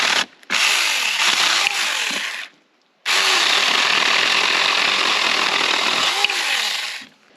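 A small powered saw, cheaper and lighter than a big chainsaw, buzzes steadily through wood in two long bursts separated by a brief pause, loud and close.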